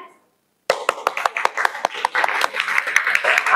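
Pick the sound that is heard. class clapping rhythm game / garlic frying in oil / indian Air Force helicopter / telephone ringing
class clapping rhythm game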